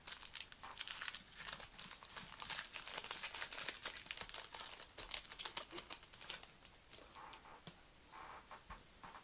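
A Magic: The Gathering Kaladesh booster pack is torn open with continuous close crinkling and rustling of foil wrapper, steady for several seconds and easing near the end, no talking.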